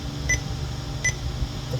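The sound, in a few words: electronic beeping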